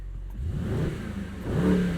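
A 2020 Mercedes-AMG GT 63 S moving off, its engine rising in a low, moderately loud rev with a second swell toward the end, heard from the cabin without talk.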